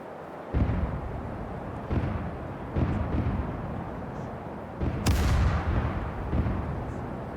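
Ship cannons in the naval game Caribbean Legend thunder through a broadside, a rolling series of heavy booms spaced about a second apart over a dense low rumble, with one especially sharp, loud blast near the middle.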